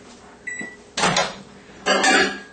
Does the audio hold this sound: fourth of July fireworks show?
no